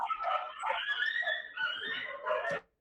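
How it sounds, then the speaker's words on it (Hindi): Several dogs bark and howl together in a continuous, overlapping chorus that sounds somewhat distant, then cuts off abruptly. "यार तुम लोगों के कुत्ते बहुत हैं वहाँ पे"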